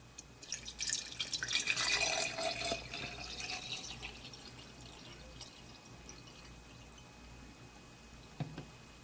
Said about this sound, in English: I'm just going to fill the jar up.